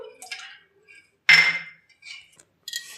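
A spoon clinks against a glass or bowl while soaked basil seeds are stirred into watermelon juice, giving a few sharp separate clinks and scrapes with quiet gaps between them, close by and with no speech.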